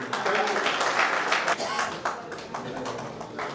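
An audience at a speech competition gives a round of applause, dense clapping from many people close by, loud at first and slowly easing, with some voices mixed in.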